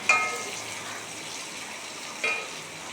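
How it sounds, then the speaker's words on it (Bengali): Onion and green chillies fry in oil in a pan, a soft steady sizzle broken by two sharp stirring scrapes, one at the start and one near the end. "পেঁয়াজ লঙ্কাটা ভাজা হয়ে গেছে"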